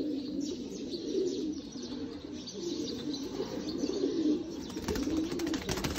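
Sialkoti pearl-marked pigeons coo in low, repeated throaty bursts, with a few faint chirps and soft wing flutters mixed in, steady and fairly close.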